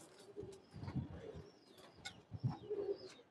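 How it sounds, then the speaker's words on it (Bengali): A male pigeon coos softly in a series of low, rolling calls at close range, with no one talking over it. "এটা নর কবুতর"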